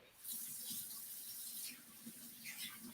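Warm water runs steadily from a tap, probably washing hands, a continuous hiss with small splashy fluctuations, close and moderately loud, no talk.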